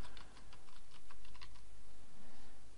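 Someone types a folder name on a computer keyboard, a short run of quick, close key clicks over a steady hum of background noise. No one speaks.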